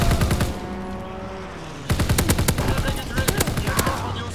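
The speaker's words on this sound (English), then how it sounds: "Let me pick up somebody's LMG" A light machine gun fires in Call of Duty WWII in rapid, loud bursts, a short volley at the start, then a long sustained stream of shots from about two seconds on.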